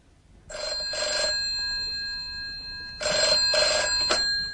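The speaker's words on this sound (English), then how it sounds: "And then, at 3, the phone rang." An old-style telephone bell rings in two bursts, each a pair of rapid trills, with a short pause between them, clear and fairly close in a quiet room.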